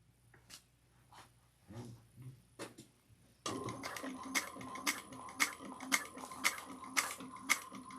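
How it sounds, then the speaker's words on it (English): A sewing machine top stitches a bucket bag in a steady run of close, evenly spaced mechanical clacks, after a few scattered handling knocks at the start. "we're going to take it over to our machine, and we're going to top stitch 1/8 of an inch away"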